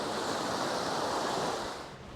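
Clear sea water washes against the shore at Can Picafort, Mallorca. A close, continuous rush of surf fills the whole stretch, with no voices.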